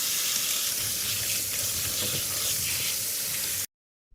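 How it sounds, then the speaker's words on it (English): Running water pours steadily from a tap over fresh blueberries with a constant splashing hiss, then stops abruptly. "I will wash the blueberries."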